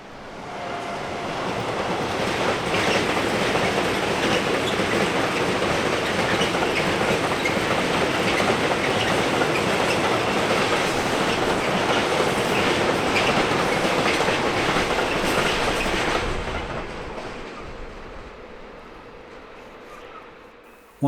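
German train, class 146 electric locomotive hauling a Hannover to Nordhausen service, sweeps past on the rails near Hannover with a loud, sustained roar and clatter that fades out over the final seconds.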